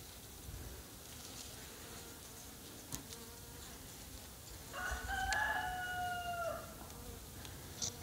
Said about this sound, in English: I got bees coming out the top, so I'm going to have to be very calm.